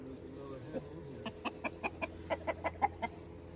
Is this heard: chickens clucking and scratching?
yes